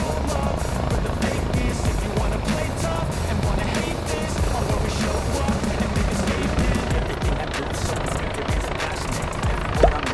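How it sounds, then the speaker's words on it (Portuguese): A Federal Highway Police rescue helicopter descends onto the BR-277 highway, its rotors giving a continuous, moderately loud, distant chop with a fast rhythmic beat under traffic and outdoor noise. "Helicóptero acabando de descer lá na rodovia."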